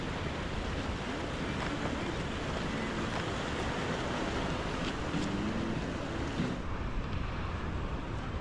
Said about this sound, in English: At this point, I noticed the waves were breaking over the lagoon wall.